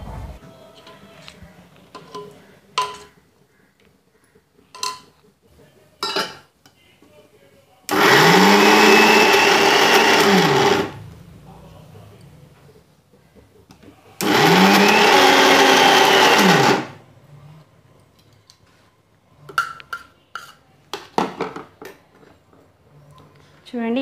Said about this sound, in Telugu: ఇప్పుడు దీనిని మెత్తగా, వీలైనంత మెత్తగా మనం మిక్సీ పట్టుకోవాలి.